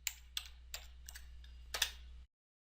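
Keystrokes on a computer keyboard while entering unit settings in AutoCAD 2015, about six separate clicks at uneven intervals, close and fairly quiet over a low steady hum, then sudden silence.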